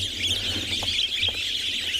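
A flock of wattled starlings chattering at a breeding site on a sunrise safari, a dense, continuous cascade of squeaky calls from many birds, steady and fairly loud around the listener, with no talking.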